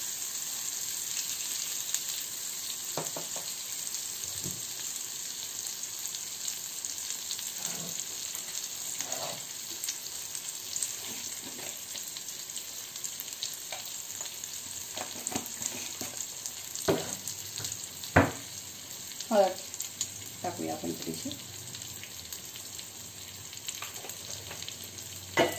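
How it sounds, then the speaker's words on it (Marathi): Batata vada chutney, a turmeric-spiced mixture, sizzling and frying in oil in a pan, with a steady hiss broken by occasional stirring scrapes and clinks; no talking. "आता बघा हे तेल बाहेरच आलेलं आहे म्हणजे ही जी चटणी आहे ती फ्राय झालेली आहे"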